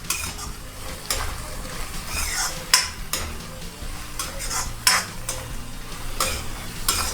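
A spoon stirs and scrapes garlic and green onions into a Gujarati tuver na thotha of pigeon peas in a metal pan, with a soft sizzle beneath, irregular clinks and a few louder utensil knocks against the pan, close up and without talk.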